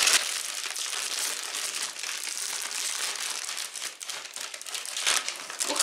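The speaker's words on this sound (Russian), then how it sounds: "Давайте ее откроем и посмотрим, а то она так шуршит." A 50-gram plastic packet of corn-ring snacks flavored with boiled crayfish is crinkled and rustled close up, a continuous crackling and crumpling with sharper bursts throughout.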